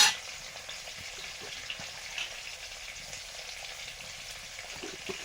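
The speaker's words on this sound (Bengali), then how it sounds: "মশলাটা ভাজা ভাপিয়ে নিচ্ছি" Spice paste for Malabar spinach and pumpkin sizzles with a little added water in a steady, moderately loud frying hiss, with faint soft stirring taps underneath.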